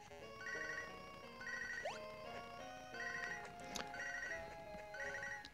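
A phone ringtone repeats in the Nintendo DS game Pokémon SoulSilver, a bright electronic melody in recurring phrases over quieter game music.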